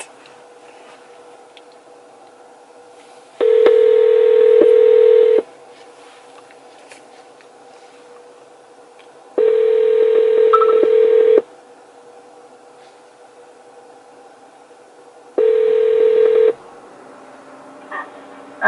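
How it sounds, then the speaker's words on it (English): Three bursts of telephone dialing tones, each a steady two-tone sound lasting one to two seconds, separated by several seconds of quiet room background, with no talking. "I'm about to dial her up."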